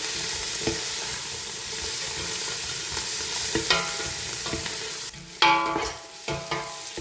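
Masala fries in a pan over medium heat for mutton biryani. A constant close sizzle runs under repeated spoon stirs and scrapes, which grow louder and sharper toward the end. Nobody speaks.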